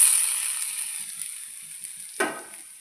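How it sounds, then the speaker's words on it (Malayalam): Coconut, coriander and chilli fry in coconut oil in a pan with a soft, hissing sizzle that slowly fades, broken by one sharp stirring scrape near the end. "ഇനി തേങ്ങയും മല്ലി മുളകും എല്ലാം കൂടി ഇതിലേക്ക് ഇട്ട് കൊടുക്കാം."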